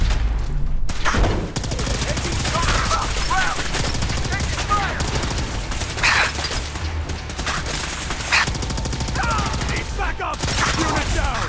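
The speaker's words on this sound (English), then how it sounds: "I like this plasma rifle." Rapid energy-weapon bursts from a plasma rifle in Fallout 4 crackle loudly and almost continuously, layered with bangs and chatter of other gunfire across a combat scene.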